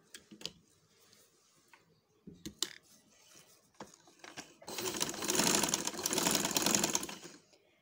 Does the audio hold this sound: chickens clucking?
no